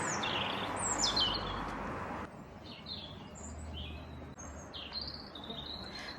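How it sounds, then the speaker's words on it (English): Birds chirping and singing on a sunny day in Bodmin, Cornwall, with bright repeated calls near and far over a steady outdoor hiss. "The birds are singing, the sun is out."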